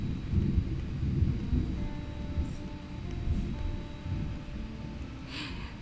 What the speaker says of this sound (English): Ooh, you hear that thunder?